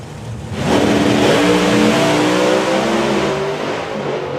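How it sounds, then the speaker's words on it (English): A nitrous-fed modern Camaro and a supercharged 1967 Camaro launch at a drag racing event, their engines swelling into a loud, sustained roar that stays strong and near. "One nitrous Camaro of a modern vintage and a retro 67 Camaro with a supercharger coming your way very quickly."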